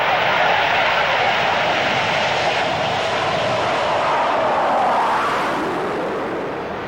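Hawker Hunter jet engines running as the aircraft is towed out of a mountain rock shelter during a scramble: a loud, continuous broadband roar and whine that holds steady, easing slightly near the end.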